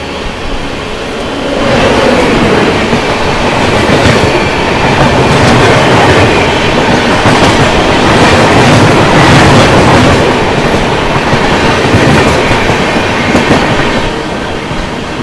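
An Indian Railways train between Bangalore and Mumbai heard from inside a general class coach: a loud, steady roar of wheels and rattling carriage with a faint rhythmic clatter, continuous and close throughout.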